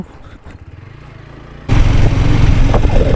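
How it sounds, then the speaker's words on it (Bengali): A motorbike engine rumbles steadily while riding, becoming suddenly much louder and rougher halfway through as wind and engine noise surge close up. "ডিজি স্টাইলে বাইক চালানি"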